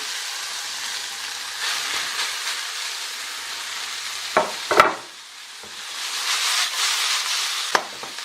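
Mixed spring greens hit a hot pan already holding stir-fried peppers, green onions and garlic, giving a loud steady sizzle with sharp clatters of the spatula partway through, a brief quieter dip, then the frying hiss swelling again.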